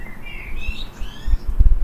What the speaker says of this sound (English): There's a female sparrow